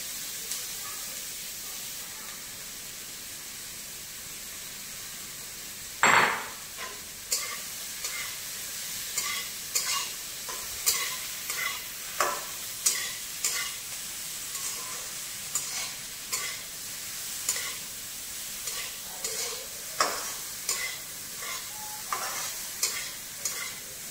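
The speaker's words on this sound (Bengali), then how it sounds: "এবার দিয়ে দিলাম ম্যারিনেট করা সয়াবিন।" Marinated soybean chunks frying in a pan give a steady soft sizzle, with a sharp burst as they go in and then regular clinks and scrapes of stirring every second or so.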